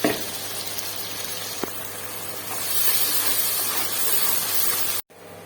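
Loud, steady sizzling hiss as tomato paste hits a hot pan during cooking of a sarson ka saag recipe, continuing evenly for several seconds before cutting off abruptly near the end.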